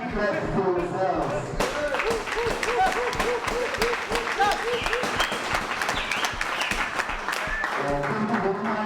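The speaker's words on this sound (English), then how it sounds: "please give a big clap for yourselves" A crowd of boxing fans claps at a boxing fest after a ring announcer's address. Steady, dense applause runs throughout, with voices and crowd chatter mixed in.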